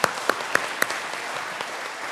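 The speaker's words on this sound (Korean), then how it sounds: "거기다 박수 한번 쳐주세요." Applause in a church after a play, soft and distant, with a handful of sharper individual claps at the start over a faint, steady wash of clapping.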